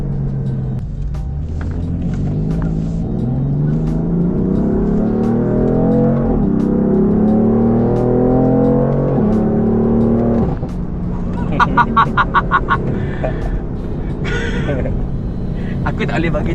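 A BMW M4 engine pulls hard under acceleration, a loud rising drone climbing in pitch over several seconds before easing off, with a brief ticking burst near the end.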